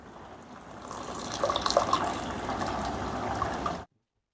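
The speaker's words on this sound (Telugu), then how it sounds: "ఇప్పుడు ఈ పాలకూరను తీసి చన్నీళ్ళల్లో వేసుకుందాం" Blanched spinach going into a bowl of cold water in a home kitchen, a close, splashy gush and trickle of water that builds, holds steady, then cuts off abruptly.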